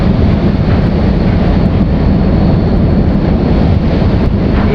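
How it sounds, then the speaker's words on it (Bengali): Roaring wind and rushing sea noise on the stormy open sea off Bangladesh, loud and steady with heavy wind buffeting the microphone and no distinct breaking wave. "আবার এই যে একটা ঢেউ আসতেছে"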